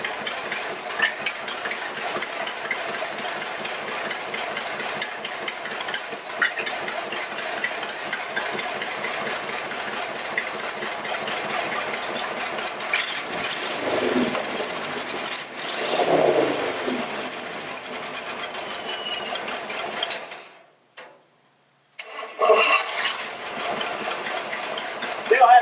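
Rat rod roadster engine idling after a carburetor adjustment, a rapid even mechanical patter with a slight hesitation, briefly rising near the middle and cutting out for a moment before restarting.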